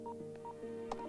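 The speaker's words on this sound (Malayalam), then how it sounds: "ഗൗതമിനെ വിളിക്കാനാ?" Telephone keypad dialing tones in a phone call scene: several short, clear paired beeps in quick succession, evenly spaced and fairly loud, with no talking.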